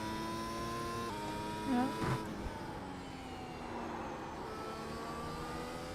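A race car engine drones under throttle with shifting tonal harmonics, rising and falling as speed changes, heard from a moderate distance with a brief voice over it.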